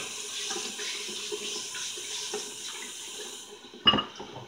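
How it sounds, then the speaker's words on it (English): Water runs steadily from a tap with a soft hiss and splashing as a head is wetted for a straight razor shave, then cuts off, followed by a brief knock and drip. "let's go ahead and put a little bit of water on the head again"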